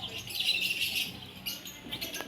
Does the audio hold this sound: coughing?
no